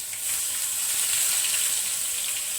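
Onion paste and spices frying in a pan for an eggplant masala curry, a steady bright sizzle with a constant hiss running evenly throughout, close and fairly loud.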